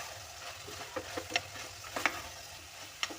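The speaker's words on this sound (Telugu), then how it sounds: "ఇప్పుడు ఇందులో కారం గరం మసాలా వేసి మొత్తం కలిసే విధంగా కలుపుకొని మగ్గించుకుందాము" Spoon scraping and stirring through mutton curry in a pressure cooker as chili powder and garam masala are mixed in, with a soft sizzle underneath and a few sharp clinks against the pot, close and moderately quiet.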